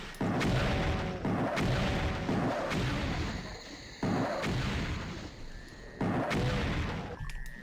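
Rocket launcher firing and detonating in the Doom mod Eternal Doom IV, heavy booming blasts repeating every second or two, loud and close, each with a rumbling decay.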